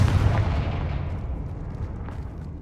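A fire spell in the Hogwarts Legacy video game detonates with a deep, loud boom that rolls off and fades into a decaying rumble over a couple of seconds.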